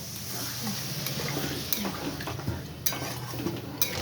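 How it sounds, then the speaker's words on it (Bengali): Chickpea curry being stirred with added water in a pot, a spoon scraping and knocking against the metal in a steady rhythm with a few sharper clinks, close and moderately loud with a faint bubbling background. "আমি এই জল দিয়ে নাড়ছি।"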